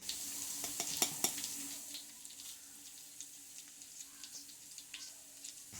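Small fresh river fish fry in a pan with turmeric and masala, giving a faint, steady sizzle broken by scattered clicks and scrapes of stirring.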